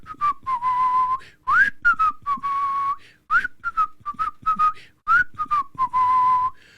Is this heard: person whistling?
yes